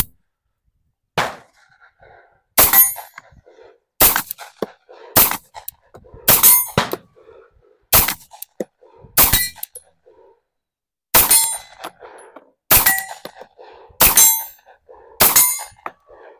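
A Tisas 1911 Carry B9R 9mm pistol fires about ten rounds of Winchester ammunition at steel plates, each sharp report followed by a ringing metallic clang, spaced irregularly with short pauses, loud and close with no talking.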